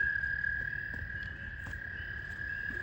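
A steady high-pitched insect-like trilling of calling frogs fills the woods at midnight, loud and continuous over faint low rustling, with no voices.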